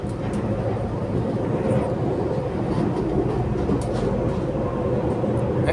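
An Auckland Southern Line commuter train rolls along at speed, heard from inside as a constant, loud low rumble of wheels and motors with faint rattles over the top.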